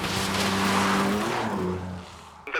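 A loud BMW car engine, running on five of its cylinders, roars at high revs nearby, the pitch sliding down as it eases off, ending with a faint click.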